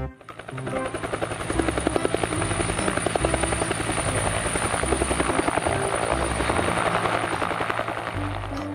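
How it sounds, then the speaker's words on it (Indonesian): A helicopter's rotor thumps steadily and loudly close by, a continuous droning beat with engine whine, no voices. "Helikopter."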